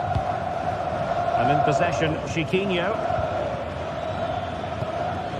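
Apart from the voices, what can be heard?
stadium crowd cheering in football video game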